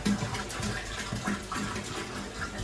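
Water is poured into a fish tank being cleaned, along with its filter, making a soft, continuous splashing and trickling that stays fairly quiet.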